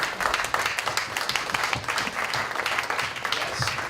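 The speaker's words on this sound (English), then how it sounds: "round of applause for our panelists" An audience at a music panel discussion applauds the panelists, a steady crowd of clapping with distinct individual claps audible in the mix, moderately loud and continuous.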